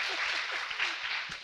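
A talk-show studio audience breaks into a short burst of applause, a brief wash of clapping at moderate volume.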